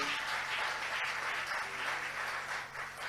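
A church congregation applauds and cheers the Lord in a steady wash of clapping that fills the room, with a slight dip near the end.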